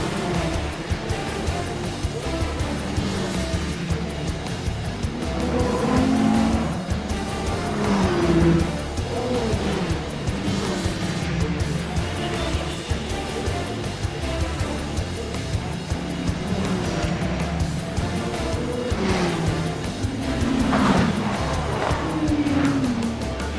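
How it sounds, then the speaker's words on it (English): Peugeot race cars at the 2008 Le Mans 24 Hours: continuous loud engine roar with rising and falling whines as cars pass, and occasional tire squeal. "As expected, the Peugeots race out to an early lead, which increases by the lap."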